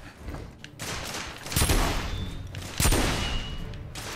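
Shotgun blasts in the video game The Order: 1886, two heavy booming shots amid a dense, continuous gunfight roar with scattered distant fire, loud and close.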